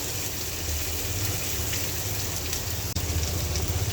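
Chopped garlic sizzling in hot mustard oil in a pan, a steady close frying hiss and crackle with faint scraping as it is stirred, one brief bump partway through; no talking.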